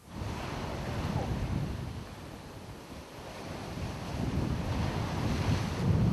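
Steady wind buffets the microphone over a constant wash of surf at a beach in Dennis, Cape Cod, rising and falling slightly in loudness with no voices.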